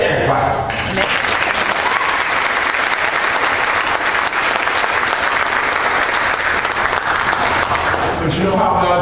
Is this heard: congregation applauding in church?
yes